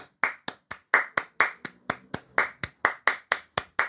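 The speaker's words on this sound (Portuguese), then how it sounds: "Então, por favor, uma salva de palmas para o Sergei." A small group or single person claps in a steady, even rhythm of sharp, distinct hand claps, about fifteen in a row, close and clear with nothing else underneath.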